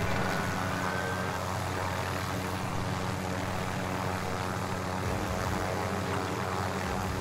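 A helicopter in a video game flies close by, its engine and rotor making a loud, steady droning roar that holds unchanged from start to finish, with no voices over it.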